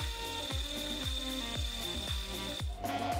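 A lathe boring bar cuts the camshaft bore of a model 30cc engine crankcase, giving a rapid string of sharp, rhythmic ticks over a steady high whine, close and moderately loud, with no talking.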